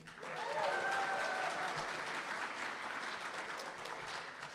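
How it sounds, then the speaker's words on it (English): An audience at a short film festival applauds the partnering performing arts center, a steady moderate clapping that swells early and holds, with a brief faint voice or tone early on. "Let's give a big round of applause for the Kenworthy Performing Arts Center, our partner in bringing this event to life."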